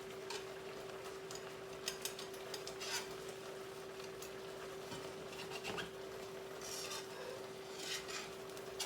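A metal whisk works gently through a thick, creamy chicken and mushroom sauce in a pan, giving soft, faint clicks and scrapes over a quiet simmer and a steady background hum.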